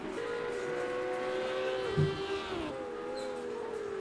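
Formula Renault 3.5 race cars in a sim racing video game at Brands Hatch GP, a steady whining engine drone with shifting pitch and a brief thump near the middle, no voices.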